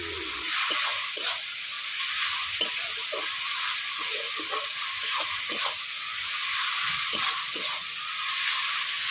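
Onions frying in a little oil with salt in a pan, a steady hissing sizzle broken by repeated scraping stirs, close and fairly loud.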